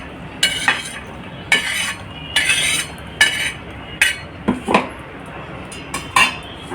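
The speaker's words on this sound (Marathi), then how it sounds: "मी डायरेक्ट ह्या मसाल्याच्या याच्यातच काढून घेते" Roasted peanuts tipped from a pan into a steel masala jar while dodka bhaji is being made, giving a run of repeated metallic clinks and scraping clatters, fairly close and loud, with short pauses between bursts and no talk.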